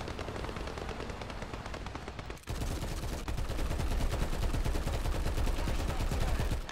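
Tank machine gun in War Thunder ground battles, a BT-7, firing long continuous rapid bursts, loud and close, with a brief gap before the fire resumes even heavier.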